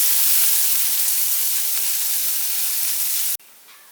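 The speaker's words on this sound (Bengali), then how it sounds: "এর মধ্যে কুচানো পেঁয়াজ, পেঁয়াজটাকে আমি একটু ফ্রাই করে নিচ্ছি।" Chopped onions fry in a pan for an eggplant and poppy seed paste dish, with a loud, steady sizzle that cuts off abruptly near the end, leaving quieter background hiss.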